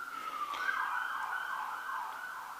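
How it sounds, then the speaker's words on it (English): An emergency siren wails in a slow rising and falling tone, distant and steady, with no talking over it. "I'm not sure if you just heard the sirens there."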